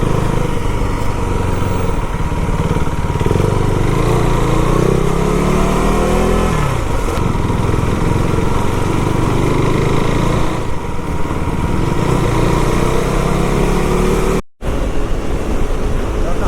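Loud, constant wind roar buffets over a running motorcycle engine on the open road, with the engine pitch rising and falling as it rides.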